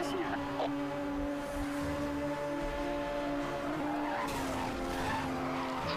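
Car drifting with tire skid in the racing video game Need for Speed Hot Pursuit Remastered, a continuous loud squealing skid over a roaring engine, with a voice talking over it.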